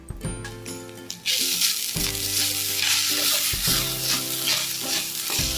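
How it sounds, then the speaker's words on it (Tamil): Grated coconut roasting in ghee in a pan for susiyam, a Tamil sweet: a steady, loud sizzle runs throughout, with rhythmic scraping as it is stirred and a quieter start before the frying swells. "நல்லா அந்த நெய்யிலேயே வறுத்துக்கலாங்க"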